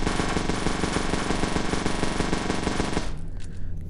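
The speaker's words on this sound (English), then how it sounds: "minigun time." A minigun fires in the video game Melon Playground as a dense, rapid rattling burst of gunfire. It is loud and continuous for about three seconds, then stops abruptly, leaving quieter background sound.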